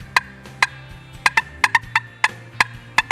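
Cutting made on a turkey call imitating an excited hen turkey: sharp, irregular clucks in quick bursts, close and loud, over a low background hum.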